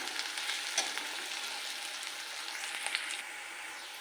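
Onion frying in hot oil with curry leaves gives a continuous bright sizzle up close, with a few light stirring clicks scattered through and no voices.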